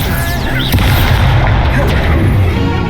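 A spell is cast during combat in the video game Hogwarts Legacy, with dense booming, crackling magic effects. The impacts land close and loud in a busy, continuous battle mix, with a voice mixed in.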